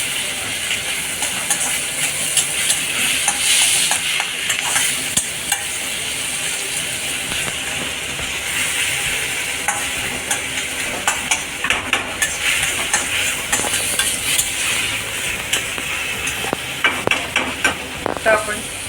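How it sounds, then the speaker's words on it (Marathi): Tomatoes sauté over high heat for street-style Hakka noodles while a spoon keeps stirring them, producing a loud continuous sizzle and hiss broken by frequent scraping strokes. "टमॅटो पण छान परतून घ्यायचा. गॅस मोठाच ठेवायचा, त्याने पटापट होते लाल."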